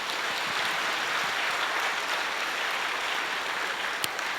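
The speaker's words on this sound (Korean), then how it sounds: "청년들한테 우리 중등부한테 큰 박수 한번" A church congregation at an early-morning special prayer meeting gives a big round of applause to the youth and middle-school group, a dense, steady wash of clapping that fills the room without breaks.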